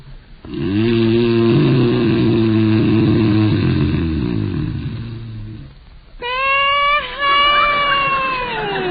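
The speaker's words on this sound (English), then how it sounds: "You can stop that snoring if you want to." A man snoring in a radio comedy: loud, rhythmic rasping breaths repeat for several seconds close up, then give way to a voice making high, sliding wail-like sounds.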